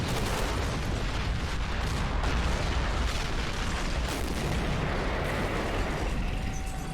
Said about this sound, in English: Now it's turned into a bit of a tank battle.